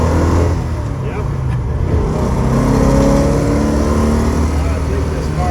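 A 1972 Plymouth Road Runner with a 541 cid engine and 4-speed gearbox drives along, its low engine rumble steady and close throughout, with people talking over it inside the car.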